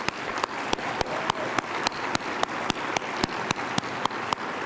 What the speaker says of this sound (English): Please join me in a round of applause to thank them for being chairs.